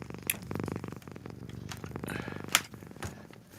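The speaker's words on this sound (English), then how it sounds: "I can hear purring" A cat purrs right against a microphone, a close, steady rumbling purr with soft rubbing and brushing noises and a few sharp clicks over it.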